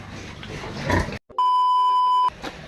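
Pigs on a pig farm, including a recently farrowed sow, grunt in a noisy close-up pen for about a second, followed by a brief silence and a steady electronic beep tone.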